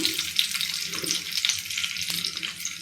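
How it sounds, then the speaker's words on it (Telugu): Garlic frying in oil with mustard seeds, cumin and fenugreek for a ridge gourd chutney, a steady close hiss with faint scraping stirs, no talking. "కొంచెం బాగా ఎర్రగా వేగాలి. ఇప్పుడు దీంట్లో వెల్లుల్లి వేసుకుందాం"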